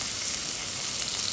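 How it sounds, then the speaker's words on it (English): Ginger, garlic and green chili saute in a hot pan, a steady close hiss of frying with no pauses, heard alone and fairly loud throughout the short stretch. "let me add in the ginger, garlic and green chili."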